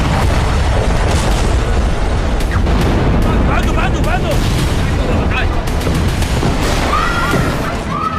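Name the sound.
explosions from airstrikes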